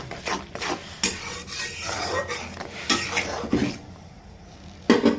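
Turmeric powder, chili powder and salt being stirred into a pan for a Bengali shrimp and turnip curry, a spoon scraping and rubbing in irregular close strokes with light sizzling beneath and brief pauses.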